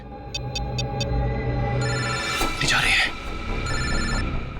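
A phone rings in repeated electronic bursts while people talk over it, with music and background noise underneath.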